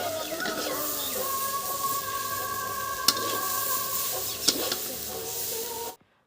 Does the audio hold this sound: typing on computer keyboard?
no